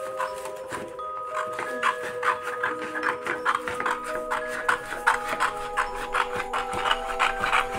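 Cutting material for a Halloween haunted house model, a rhythmic scraping, rasping stroke repeated steadily at close range, fairly quiet with a faint hum behind it.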